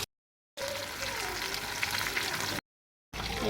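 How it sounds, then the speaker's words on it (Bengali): Partly boiled food fries in a pan, giving a steady close sizzle and crackle that runs for about two seconds between short silent gaps, with no talking. "তো দেখুন এইটাও আমার হালকা হালকা সিদ্ধ করে ফ্রাই করে নিচ্ছি"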